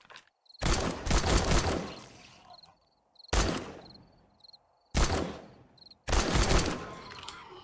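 Gunfire in the survival game 7 Days to Die, aimed at boars, comes as several loud, close bursts of rapid shots with short pauses between them and no talk over it.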